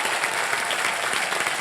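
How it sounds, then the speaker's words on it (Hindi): Audience applause on a game show set after a band's performance, a dense steady wash of many hands clapping at even loudness throughout, with no voices. "जोरदार तालियां उनके लिए।"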